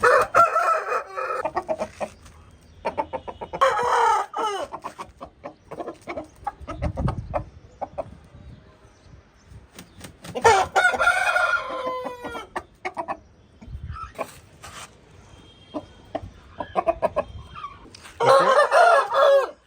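Several loud rooster crows ring out at intervals, nearby, with softer clucking and farmyard bird noise filling the gaps between them.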